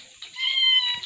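A cat gives a single short, high, tonal meow up close, rising and holding for under a second with no other sound around it.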